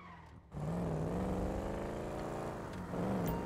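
A car in the video game GTA Online, its engine revving up after a brief gap and holding a steady, fairly loud drone, with a short dip and a rise again near the end. No talking is heard.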